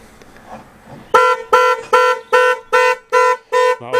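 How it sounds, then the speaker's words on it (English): A classic car's alarm sounds as a loud, steady run of seven evenly spaced electronic honks, following a quieter stretch of faint background noise. "It appears to have an alarm."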